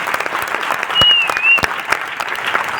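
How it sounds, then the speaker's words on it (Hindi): Audience at a success celebration event applauding together, a dense steady wash of clapping with a few louder swells, fairly close and filling the room, no talking over it. "एक बार ताली बजाइए अपने लिए कि आप सही जगह पर आ रखे हैं।"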